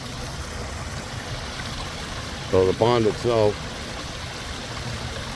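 A pond overflows into a small waterfall, giving a steady, low trickle of water throughout. Someone talks briefly over it.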